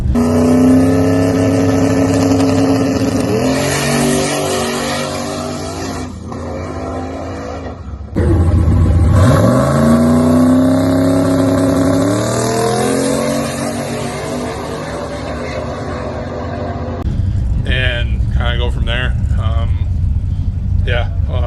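A burnt orange Chevy II drag car accelerating hard on a test pass in the left lane, engine climbing through rising revs with gear changes, loud and close, then a rougher revving burst near the end.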